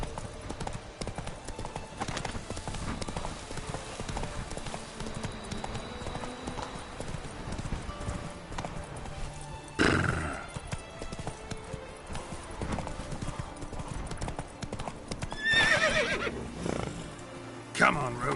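Roach the horse gallops in Witcher 3 with rapid rhythmic hoofbeats throughout, a sharp whinny near the end, and a rider's voice calling out over the clatter.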